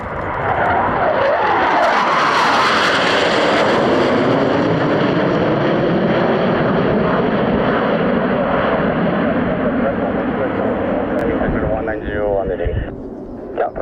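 French Air Force aircraft making a flyby while departing Ramstein during Ramstein Flag 2025, a loud sustained jet roar that builds and sweeps past overhead, then fades over several seconds.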